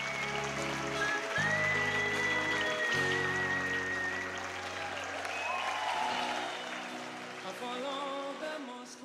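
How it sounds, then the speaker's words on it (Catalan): Sustained applause from an audience at a municipal sports awards gala, steady and moderately loud throughout, with a music bed or tones running underneath. "Un fort aplaudiment igualment per a ells."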